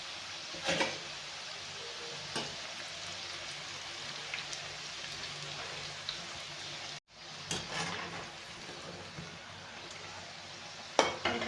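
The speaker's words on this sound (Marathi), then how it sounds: "अशा प्रकारे आपल्याला तळून घ्यायच्या आहेत" Karanji, sweet stuffed dumplings, frying in hot oil in a pan, with a soft continuous bubbling sizzle and occasional clinks of a utensil against the pan.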